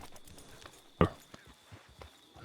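A horse's hooves clip-clop in Red Dead Redemption 2, soft rhythmic steps at walking pace with one sharper, louder knock near the middle.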